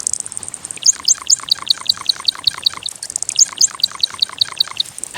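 A male widow bird gives its courtship call, a run of bright repeated gurgling, bubbling notes in rhythmic bursts, close and clear, pausing briefly midway before starting again.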